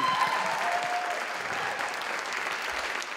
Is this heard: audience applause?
yes